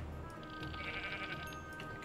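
A sheep in Minecraft gives one short, wavering bleat, close and clear over a faint background hum, with no talking.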